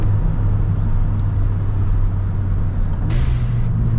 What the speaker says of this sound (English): There's no way this car should be taking bends like this and riding as well as it does.